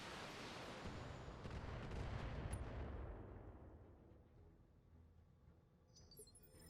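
Heavy mech weapon fire in the Battletech video game, a loud booming blast with a rumbling decay that fades over several seconds, followed by faint clinking.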